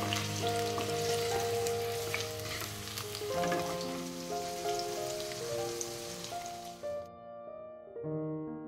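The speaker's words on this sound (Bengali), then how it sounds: "কড়াইতে অল্প সর্ষে তেল দিয়ে আলুগুলো অল্প লবণ আর হলুদ দিয়ে বেশ করে ভেজে নিচ্ছি" Potatoes with salt and turmeric fry in mustard oil in a wok, giving a steady sizzle and crackle under tonal background music, which cuts out near the end.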